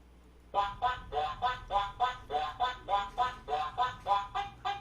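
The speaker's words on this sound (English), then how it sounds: "Do you love all the quacks in the background?" Ducks quacking in a quick, even run of about fourteen loud, nasal calls, one right after another, close by and with no voices over them.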